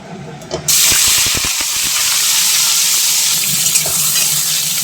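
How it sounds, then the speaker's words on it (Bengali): Pieces of squash land in hot mustard oil in a pan with a few quick thumps, then a loud, steady sizzle and hiss of frying continues close by. "এদিকে দেখো তেল গরম হয়ে গেছে এখন আমি স্কোয়াশগুলোকে ভাজতে দিয়ে দেবো"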